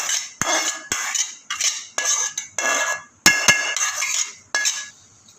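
Roasted rava (semolina) for quick idli is tipped from a hot pan into a vessel, with metal utensils clinking and scraping in a run of short, bright bursts, close and fairly loud, with no talk.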